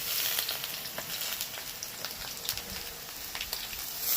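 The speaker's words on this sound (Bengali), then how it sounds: "এগুলোকে চিপে চিপে একদম যেন জল না থাকে এগুলোকে আলুর সাথে ভাজবো" Squeezed soybean chunks and potatoes crackle in hot oil, a soft, steady frying hiss with scattered small pops, heard close but fairly quietly.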